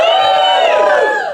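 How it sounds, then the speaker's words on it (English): A comedy club audience at a stand-up headline set lets out a loud, brief collective cheer and whoop, many voices rising together and then tailing off. "Okay, give me a cheer if you don't."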